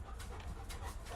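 A dog breathes heavily nearby, panting in short, quick breaths that sit low under a steady background hum, fairly faint and brief.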